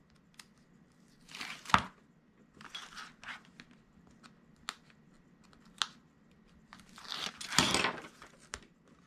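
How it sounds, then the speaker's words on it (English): Adhesive tape backing peeled away from a craft planner and notepad, giving a few crisp tearing and crinkling bursts between soft handling clicks, close and fairly quiet. "then I'll peel away the backer"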